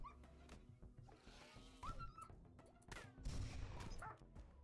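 A dog in the video game RimWorld whimpers and yips in short, high-pitched bursts amid thuds and clattering game sounds.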